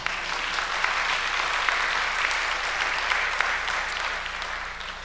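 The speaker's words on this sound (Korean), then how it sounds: "동의하시면 박수 한번 쳐주세요." A church congregation applauds, a steady dense wash of clapping held evenly for several seconds at moderate distance, with no talk over it.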